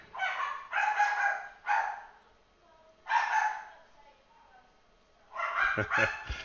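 Several dogs bark in short excited bursts, a few barks at a time with pauses between, fairly close and loud with no talk over them.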